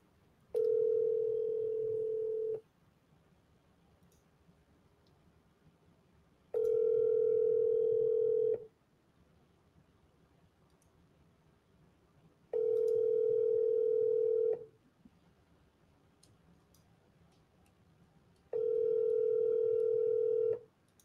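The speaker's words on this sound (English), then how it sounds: "I'm going to call Joyce here in, where is this? Oklahoma." Telephone ringback while calling a property lead: four evenly spaced, steady tones, each about two seconds long with roughly four-second silences between, clear and close.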